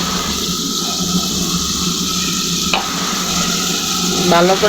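Spice masala with salt sizzling in a pan and being scraped and stirred steadily, loud and close, with a short clatter of the spoon midway and a brief voice at the end.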